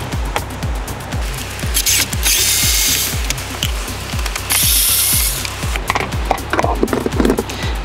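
A power screwdriver backs screws out of a Toyota FJ Cruiser dash panel, giving repeated short whirring bursts with a rapid ratcheting clatter and loud high-pitched spins, heard close up.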